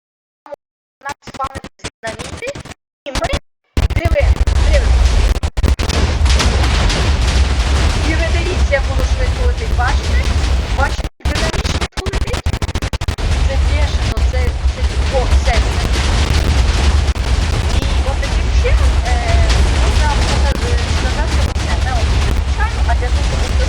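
Minecraft TNT cannon firing, starting with a few scattered bursts and then a dense, loud, continuous roar of blasts and explosions with brief gaps.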